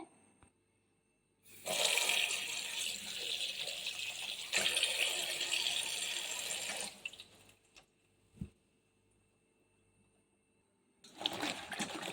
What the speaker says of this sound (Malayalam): അപ്പം ഞാൻ വെള്ളം ഒഴിക്കട്ടെ